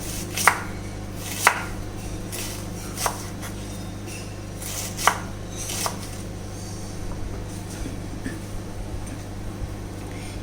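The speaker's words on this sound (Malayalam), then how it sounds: "ഇനി ഉള്ളി ഉള്ളി നമുക്ക് സ്ക്വയർ പീസസ് ആയിട്ട് അരിഞ്ഞ് വെക്കാം തീരെ ചെറുതായിട്ടല്ല അരിയേണ്ടത് കുറച്ച് വലുതായിട്ട്" A knife chops onion into square pieces on a board, giving sharp, isolated thunks spaced a second or more apart, close and distinct over a low steady background hum.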